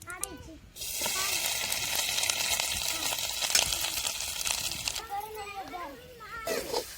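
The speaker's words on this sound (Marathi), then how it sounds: "तर बघा थोडासा आपला खोबरेच किस परतलेला पण आहे" Grated coconut frying in oil in a kadai, a steady broadband sizzle that runs through most of the clip, with children's voices and talk breaking in near the start and end.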